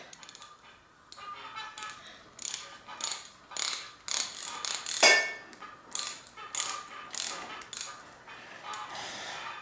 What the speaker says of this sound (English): And I'll tighten these down, but they don't need to be super tight